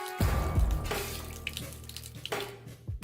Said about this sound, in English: stop pouring accelerant into the basement of my fireworks shop